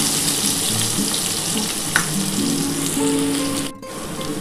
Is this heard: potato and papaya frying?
yes